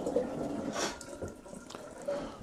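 Water from a tap flows into a plastic water storage tub with a soft, continuous splashing and trickling, fairly close and without voices.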